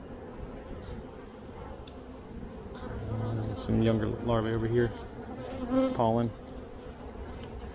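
Honey bees hum steadily around an open hive during a brood inspection, a close, continuous buzz that swells and dips while a person talks over it.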